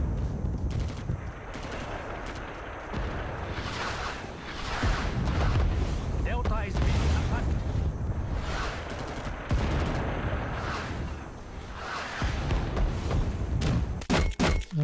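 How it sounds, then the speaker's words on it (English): Heavy artillery in the Vietnam War shooter Rising Storm 2: Vietnam booms again and again alongside rattling gunfire, loud, dense and continuous, with sharp blasts near the end. "That's some heavy artillery"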